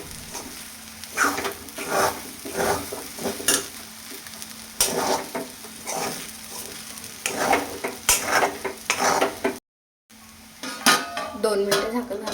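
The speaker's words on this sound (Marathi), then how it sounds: "परत एकदा छान परतून घेते आणि झाकण घालून ठेवते" Sabudana khichdi being sautéed in a pan with a spoon of ghee, a steady close sizzle broken by repeated scraping and clinking of the spatula against the pan, with a short silent gap near the end.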